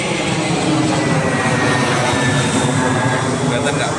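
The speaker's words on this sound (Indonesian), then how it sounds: "Ini ada suara pesawat lewat." An airplane passes overhead as a loud, steady roar of aircraft engine noise that holds throughout and masks the background.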